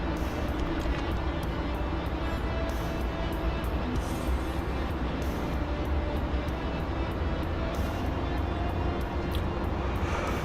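A fixed-wing aircraft engine drones steadily and loudly for several seconds while the plane readies for takeoff, a continuous even hum with no talk over it.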